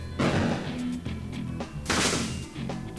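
Bomb explosions in the video game Peglin, a few punchy booming bursts in quick succession, the loudest near the middle, with no talk over them.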